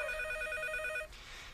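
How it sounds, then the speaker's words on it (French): A telephone rings with a steady repeating bell tone for about a second, then cuts off, leaving quiet room noise; no voices are heard. "Ben, c'est peut-être le téléphone?"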